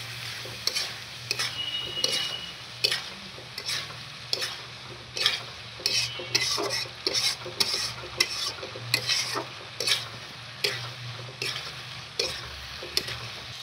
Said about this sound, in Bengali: তো এই মশলাটা ভালো করে কষাই করতে হবে